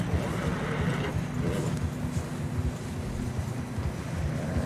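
Horses trudge through deep fresh snow on a mountain trail in Red Dead Redemption 2, a steady low mix of heavy hoof thuds and shuffling under wind-like wash, moderately loud and continuous.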